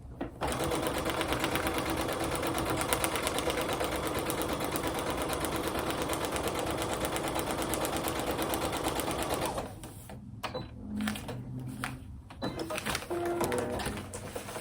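A sewing machine stitches steadily along a marked line on braid paper for a quilt, running loud and continuous for about nine seconds, then stopping into quieter handling noises and brief rustles.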